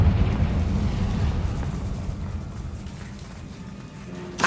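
A Confringo fire spell blast in the Hogwarts Legacy video game leaves a deep, rumbling explosion that slowly fades over several seconds, ending with a small sharp pop; no speech is heard.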